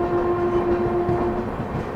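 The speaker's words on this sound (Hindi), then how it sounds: "यहाँ पे पैरेलली में पद्मावत एक्सप्रेस जा रही है" The Padmavat Express passes on a parallel track near Ghaziabad, a loud, close rumble of rolling railcars with a sustained horn tone over it for the first part.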